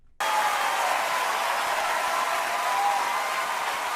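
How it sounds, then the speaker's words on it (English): Dense, steady audience applause for Christopher Jackson at a Hamilton performance, a sustained wash of clapping that starts abruptly and holds at full level with no voices over it. "we're going to let his applause play out because it is well earned and well deserved"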